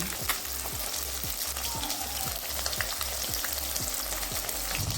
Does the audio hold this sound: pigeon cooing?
no